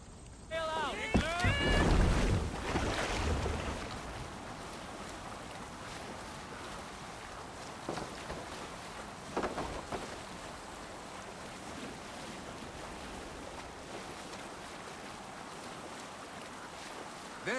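A boat glides over water in Assassin's Creed Valhalla, a soft steady wash of waves and wind after a short burst of game music and voices at the start.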